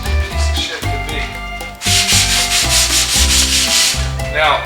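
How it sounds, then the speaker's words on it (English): Block sanding a body panel on an Oldsmobile Cutlass Supreme under restoration: steady back-and-forth rubbing strokes of abrasive close by, repeating in an even rhythm. "once I get this sanded"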